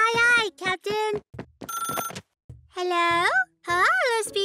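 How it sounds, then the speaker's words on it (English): A cartoon telephone rings in loud, repeated bursts with pauses between them, close and clear, in a children's animated show. "First mate Paula, answer the phone."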